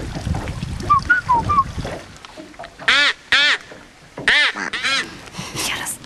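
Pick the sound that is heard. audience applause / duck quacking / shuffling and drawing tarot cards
duck quacking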